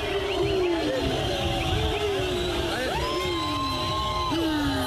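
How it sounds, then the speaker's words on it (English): A large crowd celebrates in downtown Harare, a dense continuous roar of cheering, whoops and yells, with shrill whistles sliding up and down above the din throughout. "Let's just listen in to these crowds for a second here"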